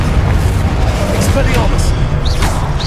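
A rapid run of spells, Glacius, Incendio and a Confringo blasting explosion, fires in Hogwarts Legacy combat as booming bursts under a voice calling out spell names, with swooshing magical effects.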